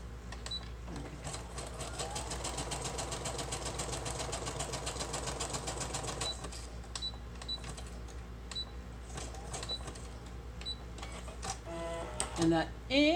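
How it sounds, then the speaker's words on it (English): A sewing machine stitches lace down the sides of a large pocket for a craft journal, a steady close mechanical whir and rattle that runs for several seconds, then slows into scattered clicks and a short burst as it trims the thread. "that noise that it makes at the end it's cutting the thread for me."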